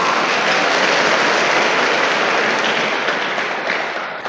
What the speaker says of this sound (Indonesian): Tepuk tangan dulu buat Anda semua